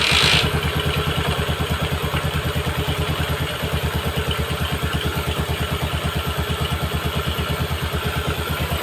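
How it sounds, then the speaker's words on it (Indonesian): A Yamaha Jupiter MX motorcycle engine idles close by with a steady, even pulsing chug, running continuously alongside a faint mechanical clatter. "kita akan nyalakan untuk motornya"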